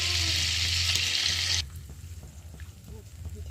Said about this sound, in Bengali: গোটা গরম মশলার ফোড়নটা